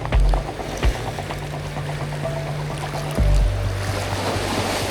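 Strong sea waves surge and crash near a sea cave at low tide, a deep churning wash with heavier thumps at the start and again around three seconds, steady and close throughout.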